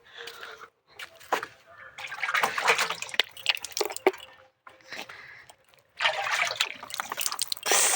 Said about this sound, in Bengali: কি ঠান্ডা বাবা মুখটা ধুয়ে নি আগে